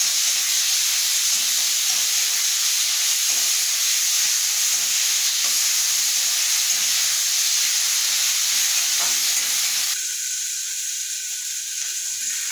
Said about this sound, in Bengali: এবার এটা আমি কষতে থাকবো যতক্ষণ না এর থেকে তেল থাকবে